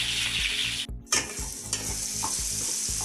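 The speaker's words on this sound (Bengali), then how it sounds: "পেঁয়াজ রসুন ভালোভাবে ভাজা হয়ে গেছে।" Chopped onion and garlic paste fry in hot oil for a Bangladeshi baim fish curry, a steady loud sizzle broken by rhythmic scraping of a spoon stirring the pan, with one brief pause.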